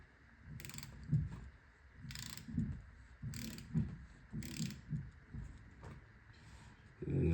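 Ratcheting clicks of a torque wrench tightening on a power steering rack during an FC RX7 restoration rebuild, several short bursts of mechanical clatter repeating about every second, close and moderately loud with no talk.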